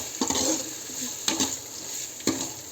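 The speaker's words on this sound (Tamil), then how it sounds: "இஞ்சி பூண்டு பேஸ்ட் போட்டு நல்லா வதக்கோங்க" Onions with ginger garlic paste sauté in a pan under a steady soft sizzle, with three distinct scraping stirs of a spoon against the pan.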